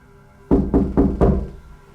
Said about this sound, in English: Could you knock back?